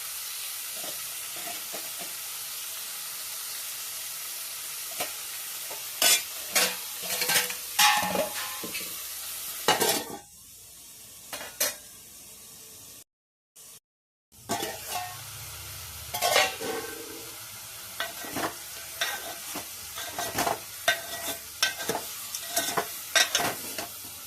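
Pieces of goat head curry cook in a pan, with sharp stirring scrapes and clinks over a soft sizzle, broken by a short silent gap midway before the stirring and bubbling resume.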